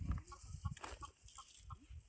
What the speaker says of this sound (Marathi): ते मम्मीचे काका आणि आजोबा कोंबडा पकडतात.